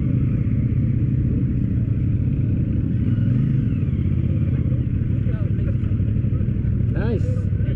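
A CFMOTO motorcycle engine idles and revs after a muddy ride, a steady loud rumble running throughout with a brief rising rev near the end, while people talk nearby.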